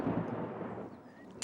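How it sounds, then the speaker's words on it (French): A low, distant rumble of thunder rolls and slowly fades, quiet and far off. "C'était le tonnerre, Peppa."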